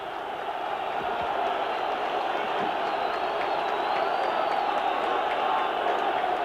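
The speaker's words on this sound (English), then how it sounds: "Bulgarian crowd on its feet." Bulgarian football crowd in a stadium during a Bulgaria versus Ireland match, a broad continuous roar of cheering and whooping rising and holding steady, loud and distant-filled, heard without commentary in the foreground.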